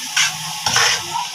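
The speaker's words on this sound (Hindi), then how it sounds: "इसको मिक्स करेंगे नूडल को, अच्छे से मिक्स कर लें।" Chicken chow mein noodles are tossed and stir-fried in a hot pan, giving two quick scraping, sizzling bursts close up.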